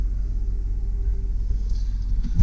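A 2005 Chevy Silverado 2500 HD 4WD pickup with 110,000 miles idling, a steady low engine rumble heard up close, alone and unbroken.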